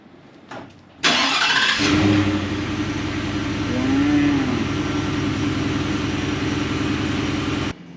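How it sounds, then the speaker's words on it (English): A 2025 Ford F-150 four-wheel-drive pickup engine with stock exhaust cranks and fires up at close range, then settles into a steady, low, fairly quiet idle with a brief rise in revs. "this is what it sounds like on startup with the stock exhaust"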